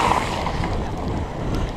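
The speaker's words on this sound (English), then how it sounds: "Water crossing." Surly Moonlander fat bike pushing through a night water crossing almost axle deep, a steady loud rush and churn of water with continuous wind-like noise and no pauses throughout.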